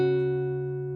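A single fingerpicked acoustic guitar phrase from a song rings out clearly and alone, a low bass note and pinched upper notes sustaining and fading over about a second.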